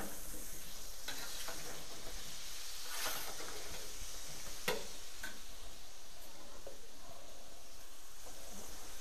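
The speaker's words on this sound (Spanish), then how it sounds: "ahora vamos a añadir el tomate para desgrasar lo que es el, los fondos, los pozos que ha dejado la carne" Chopped tomato dropped into a hot pan after frying free-range chicken for seasonal rice, a moderate crackling sizzle with scattered sharp pops and stirring scrapes, continuous and fairly close.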